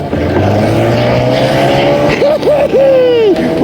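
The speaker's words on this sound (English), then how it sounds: "Start your engines! Actually, they're already started." Engines of racing vehicles roar loudly and continuously, with rising whining pitch sweeps near the end as they accelerate away.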